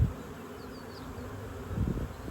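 Honeybee swarm settling at a new hive, with bees fanning at the entrance; a steady low buzzing hum fills the scene, swelling slightly toward the end, with a few faint higher insect whines drifting past.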